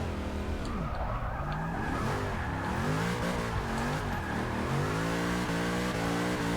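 A lowrider Impala in Forza Motorsport 6 revs hard and shifts through its gears, a continuous loud engine drone with rising and falling pitch sweeps and some tire squeal, no talking over it.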